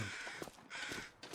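Crows caw in the wintry wilderness of the survival game The Long Dark, a few hoarse calls repeating at a moderate distance over a steady wind-like backdrop, with no talking.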